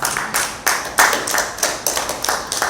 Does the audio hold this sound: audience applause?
yes